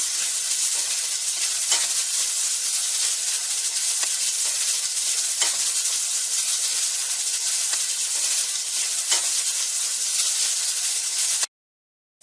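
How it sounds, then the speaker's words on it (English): Onions frying in a pan on high heat, a loud, steady broadband sizzle with occasional stir pops, continuing alone without talk until it cuts off abruptly near the end. "I have it on high heat, and we're going to put our onions in, and we're going to just cook them until they are translucent"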